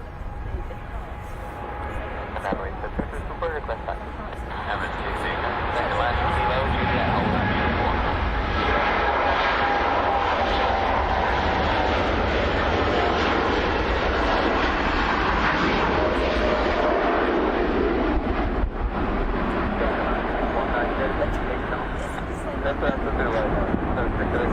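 A Boeing 787 Dreamliner airliner at Manchester Airport roars with a broad, sustained jet-engine rumble that builds and holds, with people talking over it.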